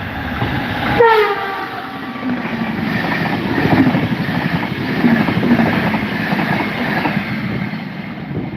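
An Irish Rail Enterprise train hauled by a class 201 locomotive in Enterprise livery sounds a short horn blast, then rumbles past with a steady roar and wheel clatter.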